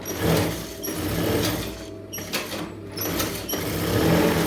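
A sewing machine stitches canvas onto a star-shaped blouse neck, running in a close, steady mechanical whir with brief pauses and restarts.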